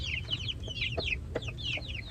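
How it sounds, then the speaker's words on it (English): Chickens cluck and chirp softly nearby over a low rumbling background, with a few short calls overlapping. "Look at these little chickens."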